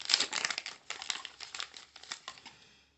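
Tape being peeled and crinkled off a Nextbase dashcam package, a close, continuous rustling and crackling of plastic and cardboard that fades out at the end, with no talking.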